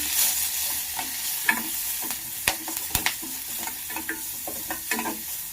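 Green beans frying in a pan with turmeric and salt give a soft continuous sizzle, broken by frequent scraping clicks of a spatula stirring them.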